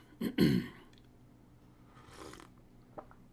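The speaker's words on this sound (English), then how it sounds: "sorry, clear my throat" A short throat clearing sounds up close, followed by quiet rustling and a faint later scrape in a mostly still room.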